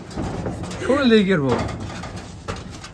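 Giribaz pigeons coo at a pigeon farm, a close warbling call rising and falling over about half a second. People talk nearby and a few light knocks follow.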